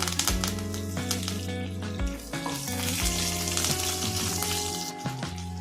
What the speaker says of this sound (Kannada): ಸಾಸಿವೆ ಸ್ವಲ್ಪ ಚಟಪಟ ಅಂತ ಇದೆ ಈಗ ಇದಕ್ಕೆ ಸ್ವಲ್ಪ ಕರ್ಬೇವಿನ ಸೊಪ್ಪು